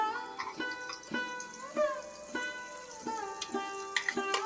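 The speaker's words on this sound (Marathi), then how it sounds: "वाटण पण फ्राय करून घेऊया जोपर्यंत तेल सुटत नाही" Homemade masala paste frying in oil in a pan for misal rassa, with a steady crackling sizzle and stirring scrapes throughout, heard close and alone.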